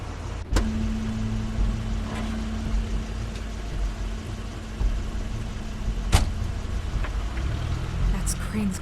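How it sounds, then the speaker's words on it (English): Crane's car in The Wolf Among Us video game: a steady low engine rumble with a brief whine and a couple of sharp clunks like a door, heard alongside a voice. "That's Crane's car."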